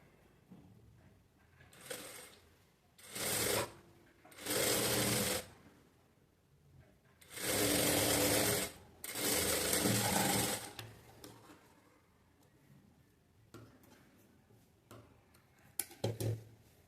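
A sewing machine stitches the side seam of a blouse sleeve in loud, close bursts of rapid ticking. Runs of about a second alternate with longer two to three second runs and quiet pauses between them.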